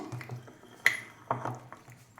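A spoon mixes gongura chutney in a dish. It makes quiet scraping and stirring sounds with a few sharp metallic clinks against the container, faint and close, with no talking.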